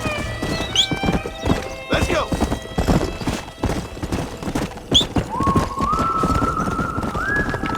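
Horse hooves clip-clop steadily in Red Dead Redemption on Nintendo Switch, a stallion at a ranch, with whinnies and rising musical tones joining over a busy layer of voices and game ambience.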